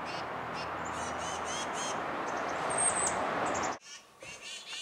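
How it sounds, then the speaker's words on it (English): Outdoor birds calling, including duck-like quacks and caws, a series of repeated calls over a steady background noise that drops away abruptly near the end. "There's a lot of birds out here today."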